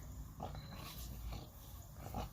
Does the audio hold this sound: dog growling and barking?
yes